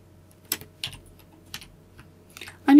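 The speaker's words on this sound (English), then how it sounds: "I'm using keyboard shortcuts right now, if you can hear my keyboard clicking." A computer keyboard clicks during Photoshop shortcut use, a handful of sharp, separate keypresses spaced irregularly over a quiet background, ending in a louder thump.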